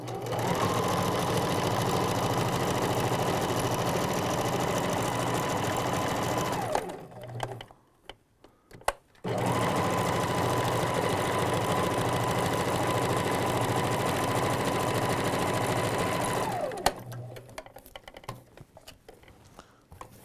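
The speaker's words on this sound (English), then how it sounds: "So let me load my machine real quick." A sewing machine stitches heat-bonded fabric for regalia in two long, steady runs of fast rhythmic whirring, each stopping abruptly with brief quiet handling sounds between, close and loud with no talk.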